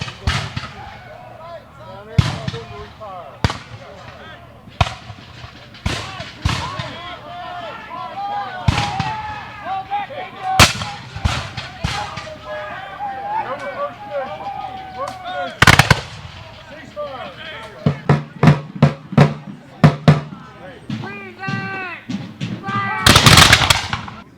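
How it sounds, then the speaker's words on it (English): Sharp booms and cracks of cannon and musket fire ring out repeatedly at a French and Indian War siege reenactment at Fort Niagara, some in quick volleys, with people shouting and talking between shots. "The smoke and fog from cannons and muskets hung heavy"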